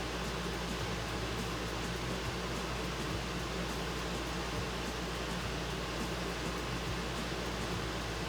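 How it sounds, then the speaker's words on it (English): An air conditioner running in a room, giving a steady broadband whoosh with a faint low hum underneath, constant and unchanging with no talking. "I apologize for the sound of my air conditioner."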